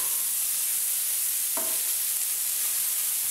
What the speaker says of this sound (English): I'm going to cook halfway my peppers and after I'm going to put my onions in it.